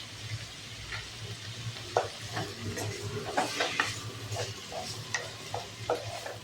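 Tomatoes with turmeric powder sizzle and fry in a pan while a spatula stirs and scrapes, giving irregular clinks and scratches over a low background hum.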